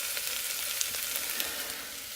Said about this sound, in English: The onions have reduced. They're really soft and they're getting caramelized.